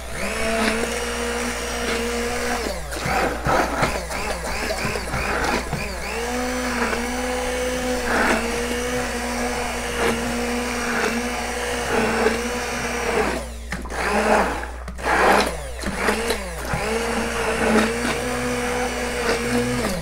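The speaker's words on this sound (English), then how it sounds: "I'm just going to take my sauce, hit it with an immersion blender" A handheld immersion blender whirs loudly and steadily through braised sauce, its motor pitch dipping and surging as it works through the thick liquid, with a couple of brief pauses.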